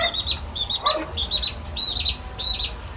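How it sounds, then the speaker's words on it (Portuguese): A baby chick peeps in a home, a series of high, thin chirps repeating in short bursts over a quiet indoor background. "É o pintinho, é?"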